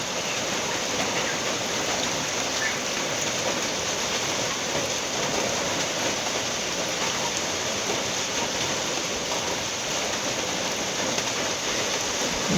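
Heavy rain pours down at night, a dense, unbroken roar of water on surfaces that holds steady and loud throughout without any voices.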